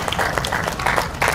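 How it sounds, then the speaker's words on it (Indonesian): Applause from a church congregation at an outdoor Christmas service, a brief burst of steady clapping that comes in pulsing waves. "Tepuk tangan dong dengan meriah."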